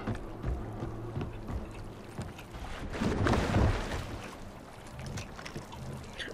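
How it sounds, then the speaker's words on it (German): A boat ride in the video game Far Cry 4, with water sloshing and wind noise that swell in a louder surge midway, no talk over it. "Aber ich glaube, wir können dieses Boot hier nehmen."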